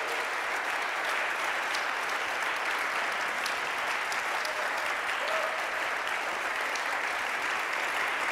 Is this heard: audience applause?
yes